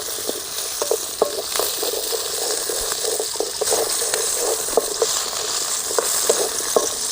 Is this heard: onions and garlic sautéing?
yes